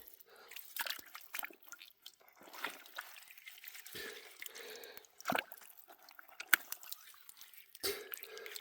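A handful of wet Spring Creek mud squelches and drips in a hand in a series of soft, close, irregular squishes, with faint talking in between.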